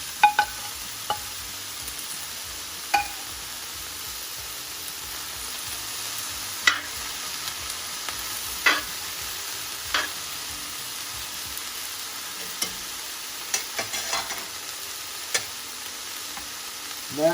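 Cabbage fries in a pan for Jamaican cabbage, a low steady sizzle under sharp, irregular spatula taps and scrapes every second or two, close by with no talk.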